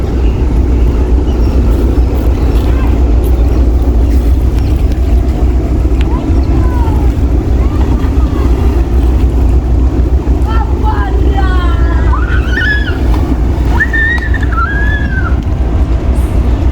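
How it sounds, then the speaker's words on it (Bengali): A small loaded cargo ship moves along the river toward Haldia near 58 Gate, its engine a steady low rumble heard close, with wind buffeting throughout and faint high whistle-like calls drifting in partway through. "তো এখন ক্রমশ জাহাজটা চলে যাচ্ছে হলদিয়ার দিকে।"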